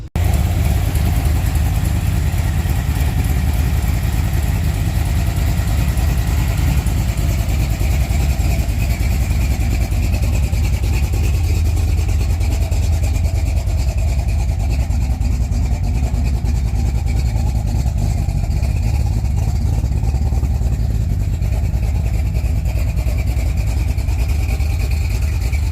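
A tubbed Ford Ranger with a 347 stroker V8 drives, its engine a loud, deep, continuous rumble up close, holding steady with slight swells in pitch throughout.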